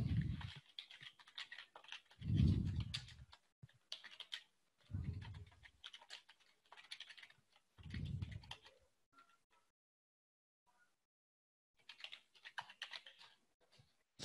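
Typing on a computer keyboard in quick close bursts of clicking keys, with pauses and a stretch of near silence before a final flurry, no talking.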